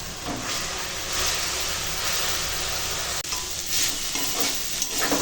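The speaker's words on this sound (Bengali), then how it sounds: "কুমড়ো শাক আর কুমড়োর ফুল একসঙ্গে নেড়ে নেড়ে ভাজা হয়ে গেছে" Pumpkin greens and pumpkin flowers stir-fried together in a pan, a steady close sizzle and hiss with scraping stirs and occasional bursts of louder crackling, no voices.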